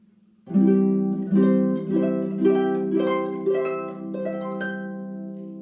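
A harp plays a series of rolled chords, about six strummed onsets roughly a second apart, each ringing and overlapping the next, close and clear with no voices.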